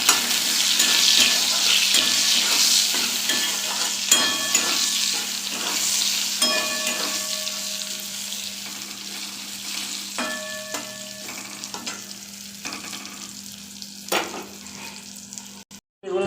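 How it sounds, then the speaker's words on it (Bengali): Eggplant pieces sizzle and crackle steadily in hot oil in a home Bengali kitchen, a continuous close frying hiss with occasional stirring clinks and utensil taps, no talking. "এর মধ্যে আমি বেগুনগুলো ভেজে নেব"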